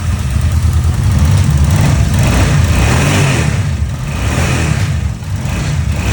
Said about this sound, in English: we need to get its engine running first.